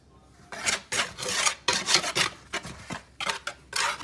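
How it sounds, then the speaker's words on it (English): A small kitchen mixer blending seasoning for cast iron skillet fried chicken, heard close and loud in repeated raspy, scraping bursts of about half a second each, with short pauses between them and no talking. "Okay, so I'm gonna take my little mixer."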